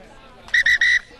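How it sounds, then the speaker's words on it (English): Referee's whistle signals half time in a 2022 first-grade club rugby match between Kalamunda and Bayswater: three short, shrill, loud blasts in quick succession over faint crowd noise. "there's the whistle for half time"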